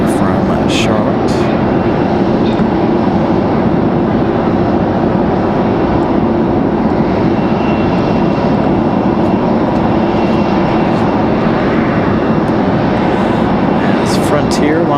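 An American Airlines CRJ 900LR passenger jet coming in to land gives a loud, sustained engine roar close by, steady throughout, with a voice talking over it.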